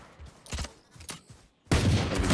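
Valorant gunfire rings out in several sharp, separated shots during a match, followed by a brief silence and then a louder, sustained burst of firing close by.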